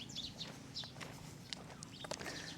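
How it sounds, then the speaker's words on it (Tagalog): Many birds chirping at a lakeview spot in Lipa, Batangas, with scattered faint high calls and tweets over a soft outdoor background and occasional footsteps. "Ayan, daming ibon."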